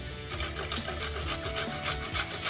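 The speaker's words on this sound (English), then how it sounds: "So I'll grate and add my carrot to the onions." A carrot is grated by hand for a fish pie filling, producing a steady, rhythmic rasping of quick repeated strokes close to the microphone, with no talking.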